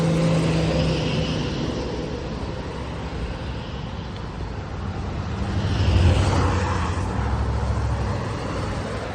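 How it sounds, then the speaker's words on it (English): Road traffic passes by near the Nantahala Outdoor Center along the Appalachian Trail, a steady loud rumble of vehicles with one swelling closer past midway, no talking. "let me let this traffic go by"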